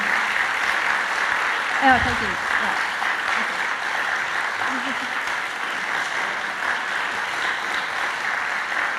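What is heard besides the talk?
audience applause for a speaker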